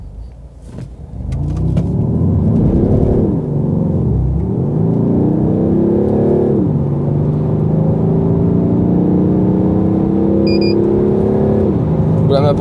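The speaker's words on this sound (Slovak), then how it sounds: "teď si vyzkoušíme zrychlení z 0 na 100" A Peugeot 308 GT diesel with a six-speed automatic accelerates hard from 0 to 100 km/h, heard from inside the cabin. The engine drone rises steadily in pitch, dips at each gearshift, then climbs again, loud and continuous for the whole run.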